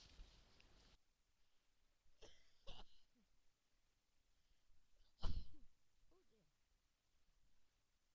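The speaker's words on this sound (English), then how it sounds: "I had a sneezing fit." A few sharp, explosive sneezes break out indoors during a gouache painting session: two quick bursts in the middle, then a louder one near the end, with quiet room sound between.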